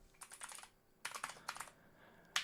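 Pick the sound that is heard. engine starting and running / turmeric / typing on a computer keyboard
typing on a computer keyboard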